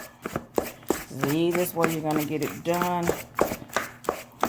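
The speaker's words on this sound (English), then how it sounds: "Just use a knife and a fork and just kind of scrape through." A knife and fork scrape and tap through food in a bowl, a run of short sharp scraping strokes, close, with a person talking over them.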